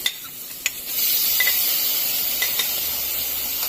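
Garlic dropped into a hot pan, with a few sharp clicks at first, then a steady close sizzle as it is stirred, with light spatula scrapes and pops and no voices.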